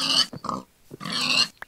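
A pig in Minecraft gives two loud grunting oinks with a couple of shorter snorts between them, close and clear with no talk.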